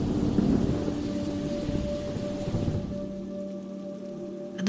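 Steady rain pours down on a surface with a low rumble of thunder underneath, gradually easing toward the end.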